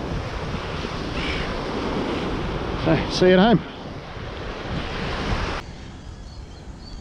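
Waves break on a beach in a steady wash of surf mixed with wind buffeting the microphone, continuing under a short spoken line before dropping away to a quieter hiss.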